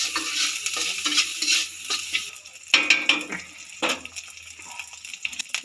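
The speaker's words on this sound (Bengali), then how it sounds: "এটা একটু নাড়বো যতক্ষণ না এটা থেকে তেল বেরিয়ে আসছে।" A spice paste fries in oil in a pan for a traditional Bengali shukto, crackling and hissing steadily while a spoon scrapes and stirs in repeated strokes, close and fairly loud, no talking.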